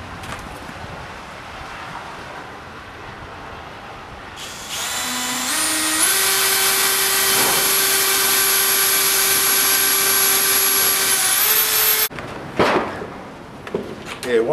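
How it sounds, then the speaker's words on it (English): After quiet background, a power drill spins up and runs for several seconds while drilling holes and driving screws in a pull-behind camper build, its pitch rising and shifting, then stops with a few clattering handling noises. "I'm going to drill some holes, put some screws in."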